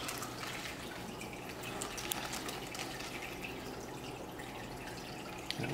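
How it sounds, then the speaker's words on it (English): Water runs into a plastic bag holding an aquarium fish, a steady, continuous splashing and trickling stream heard close up with no break. "I'm gonna go ahead and start filling this bag up with more water"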